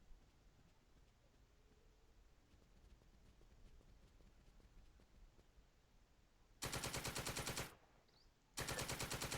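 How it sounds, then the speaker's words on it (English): Heavy machine gun fire in the wargame Second Front, in an Italian village setting: two long, loud bursts of rapid, evenly spaced shots with a short pause between them, following several seconds of quiet background noise. "There's the HMG revealing itself"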